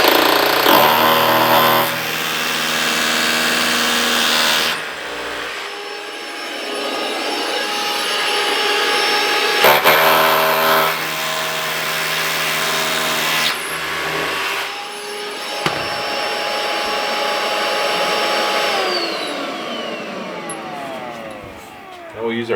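Hammer drill fastening a 2x4 shower curb, whining at high speed in long bursts separated by brief pauses, loud and close, with talking in between.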